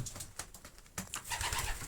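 Soft, low cooing of homing pigeons repeats several times close by in a pigeon loft, with faint rustling in the background.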